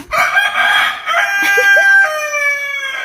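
A rooster crows loudly and close among household chickens, one long sustained call filling most of the moment with a brief break before it continues.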